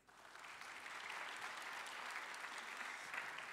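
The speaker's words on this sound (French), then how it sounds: "on peut vous applaudir" Steady applause from an audience at a French economics conference session, sustained and fairly distant, swelling quickly and holding an even wash of clapping throughout with no voices over it.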